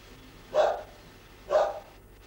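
Dogs bark outside in Bardari village: two separate sharp barks about a second apart, moderately close, with a faint steady hum between them and no talking.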